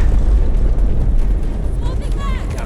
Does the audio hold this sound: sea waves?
no